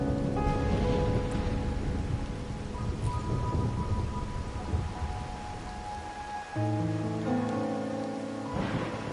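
Rain falls steadily with a low rumble of thunder in the Wuthering Waves video game, with a soft melodic music tone rising near the end.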